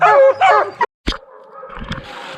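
Hunting dogs near a bear give two loud, close yelping barks, then a sharp knock, followed by quieter whining and scuffling.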